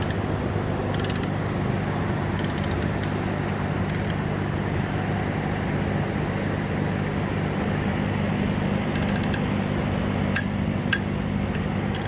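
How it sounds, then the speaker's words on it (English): A torque wrench tightens the bedplate bolts on a 6.0 or 6.4 Ford Powerstroke diesel engine, with a few sharp metallic clicks and clinks over a steady background of shop noise. "We're going to go ahead and we're going to start torquing all of these 20 bolts to 110 footy-pounds."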